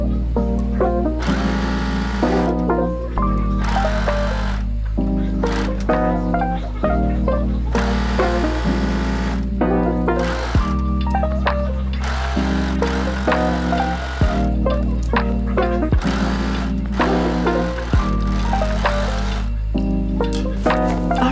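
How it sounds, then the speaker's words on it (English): Serger overlocking the side seams of a dress, running in fast, loud bursts of rapid mechanical whirring separated by brief pauses, with quiet talk now and then. "I'm just gonna sit now and serge all of these together"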